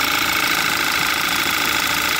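The 2013 Audi Q5 hybrid engine, with a hybrid control fault, idles roughly and nearly stalls, giving a steady dense mechanical rumble and hiss with faint irregular knocking, close and continuous with no talking.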